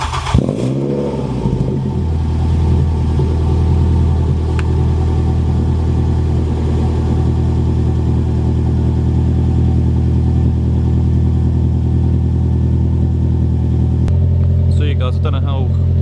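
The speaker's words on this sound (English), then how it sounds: "I'll spin the camera around, do this cold start for you guys" A Ford Fiesta ST150 with a custom dual-exit RS-style exhaust fires up from cold with a brief cranking burst, then settles into a loud, steady, throaty idle that runs until an abrupt drop near the end.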